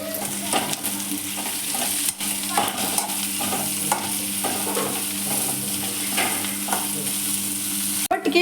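Ingredients fry in oil with coriander leaves, and a spatula stirs them with steady, repeated scrapes over a continuous close sizzle. No one talks.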